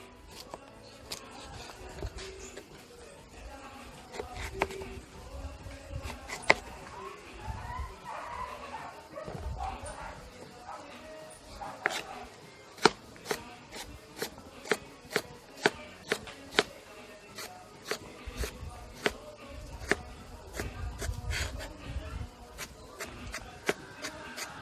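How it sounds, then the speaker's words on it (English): Carrots being cut up with a knife while cooking a vegetable stew, a steady run of sharp, close chopping clicks over a soft kitchen background. "So I'm going to cut up the carrot."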